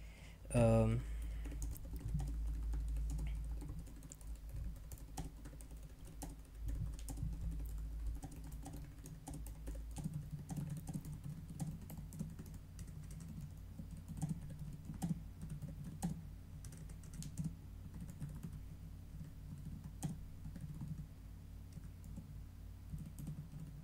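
Fingers tap steadily on a computer keyboard, quiet irregular clicks continuing for over twenty seconds in a calm room, with no one talking.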